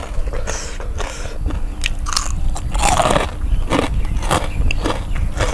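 Crunchy bites into crispy Thai pork rind (khaep mu), a steady run of loud, close crackling crunches and chewing repeating over several seconds, with no talk.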